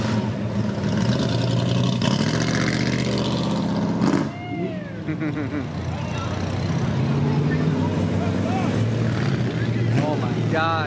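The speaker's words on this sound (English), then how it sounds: "There's a big motor. What is it, a 427 in those?" A Chevy 427 big-block V8 at a classic car cruise rumbles loud and close in a deep throbbing idle with revs, while people talk over it.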